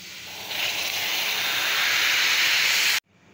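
Water pours steadily into a pan of sugar to start a syrup for kala jamun, a loud broadband hiss lasting about two and a half seconds before cutting off abruptly.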